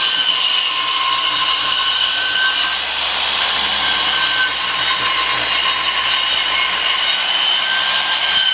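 Wood being sawn for the back piece of a goat feeder, with a steady, loud power-saw whine and rasp running nearly unbroken throughout, close up and free of talk.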